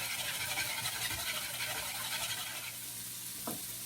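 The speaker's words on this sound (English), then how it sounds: "we're going to scramble" Eggs being scrambled with sausage in an Instant Pot give off a steady sizzle and frying hiss, with scraping stir sounds under it and a brief knock near the end, heard alone without voices.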